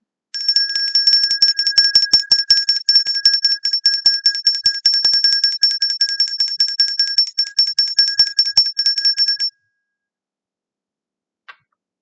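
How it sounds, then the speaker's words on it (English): A small bell rings rapidly and continuously in a bright metallic trill for about nine seconds, then stops. One final single ding follows after a short pause, with no other sound present. "we will ring the bell for the children"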